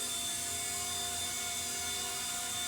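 A repaired radio-controlled MD500 model helicopter climbs in flight, its motor and rotor giving a steady high whine and buzz with a constant pitch, close and unbroken throughout.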